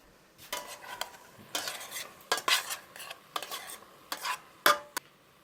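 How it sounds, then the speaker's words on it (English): Butter melts in a pot while being stirred, giving a series of scraping, clinking strokes against the pot with a faint sizzle between them. "We'll just melt the butter first."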